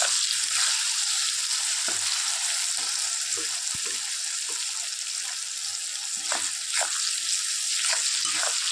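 Puti fish chorchori, cooked plainly without spices, frying in a pan with a steady, dense sizzle throughout, broken by occasional scrapes and clinks of stirring, close and loud with no talking.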